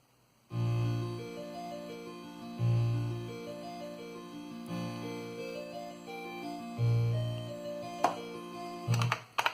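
Tchaikovsky music played by the Loom adventure game through a CMS Game Blaster sound card: a bright chiptune melody of square-ish synthesized tones over repeating bass notes, steady and alone with no talk.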